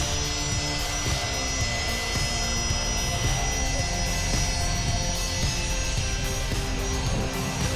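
A large airliner roaring low over the beach at the runway end of Princess Juliana International Airport, a loud continuous engine drone with a steady whine that stays strong and close throughout.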